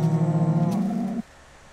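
A single sustained cow moo in the Minecraft video game, a low tonal bellow with a slight wavering pulse that cuts off abruptly into near silence.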